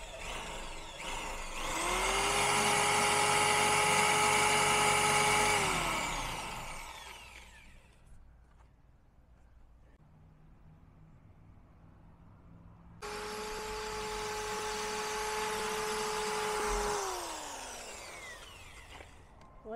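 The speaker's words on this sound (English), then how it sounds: "All right, commence drilling." A power drill bores a hole through an RV wall for a range hood vent, a Boler camper trailer. The motor runs in two long, loud bursts with a rising whine, separated by a quieter pause.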